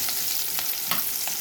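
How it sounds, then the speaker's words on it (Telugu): Green chillies and onions frying in hot oil for a brinjal, potato and tomato curry, a steady close sizzle with a few brief stirring clatters and no talk. "పచ్చిమిర్చి ఉల్లిపాయలు నూనెలో వేయిస్తున్నాను"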